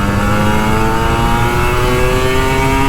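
A Kawasaki Ninja RR 150 two-stroke motorcycle engine revs steadily and loud up close, its buzzing harmonics rising gradually as the throttle is held open, with no talking.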